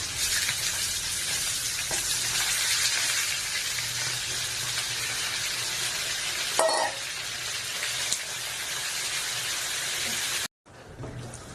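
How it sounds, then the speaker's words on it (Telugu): Mutton frying in a pan with onions, a steady broad sizzle running throughout, joined by a brief stirring clatter near the middle before the sound cuts off abruptly near the end. "దీంట్లో నేను ఫ్రైకి మటన్ వేసుకుంటున్నాను"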